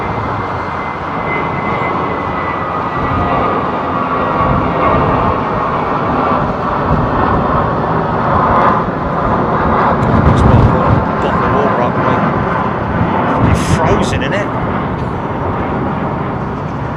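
Aircraft engines at London Heathrow Airport give a continuous broad roar that holds steady throughout, with faint higher whines near the end and a voice talking quietly underneath.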